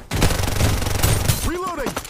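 Gunfire in Farlight 84 as a dense burst of rapid shots fills most of the moment, followed by a short whooshing game effect, loud and close.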